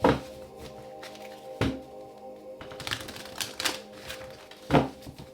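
Tarot cards being shuffled by hand, with sharp riffling bursts and thunks at the start, around 1.6 s and near 4.7 s, plus softer card rustling between them, close and fairly quiet with no talk.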